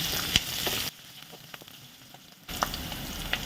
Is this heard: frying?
yes